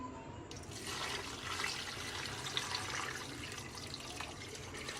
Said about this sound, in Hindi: अब मैं इसमें 4 गिलास के करीब पानी ऐड करूँगी।